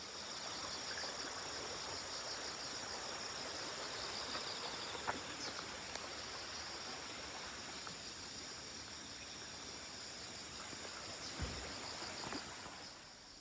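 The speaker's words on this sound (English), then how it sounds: "Look at the river's all clear." A clear river flows steadily in a quiet outdoor park setting, a soft continuous rushing and trickling wash heard faintly at a distance with no talking.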